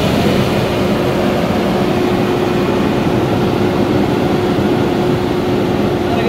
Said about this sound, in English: I'm going to engage the throttle by holding the toggle switch up until the throttle high idle engages